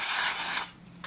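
Compressed air from a cold aerosol can blasts into a laptop for cleaning, a loud steady hiss lasting over half a second before cutting off abruptly, leaving a faint tail and a brief final puff.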